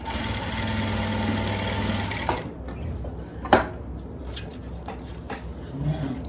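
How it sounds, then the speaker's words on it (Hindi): Sewing machine stitching elastic onto a sleeve of a dress made from a saree, a loud steady motor hum for the first two seconds, then quieter handling noise with a sharp knock. "इस इलास्टिक को यहाँ पे इस साइड ऐसे सिलाई से सेट कर देंगे।"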